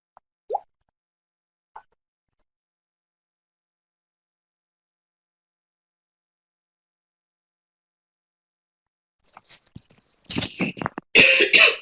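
A couple of small isolated pops early, then several seconds of quiet before a burst of harsh, noisy coughing and throat sounds close to the mic.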